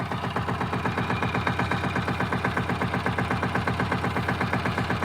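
Repaired ATV engine, earlier damaged by fire, running at a steady idle with a rapid, even chugging pulse, close and loud with no voices.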